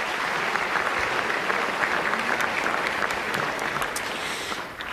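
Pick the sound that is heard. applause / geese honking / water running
applause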